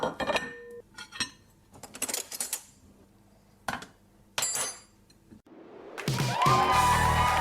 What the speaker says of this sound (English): Go get the pots ready.